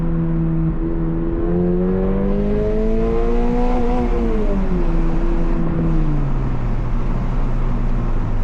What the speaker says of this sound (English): do a little second gear pull here from about 40 miles an hour